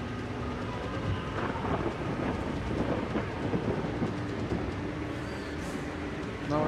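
Thunderstorm in the video game Far Cry Primal: heavy rain pours in a dense, constant roar with deep rumbling thunder rolling underneath, loud and sustained throughout.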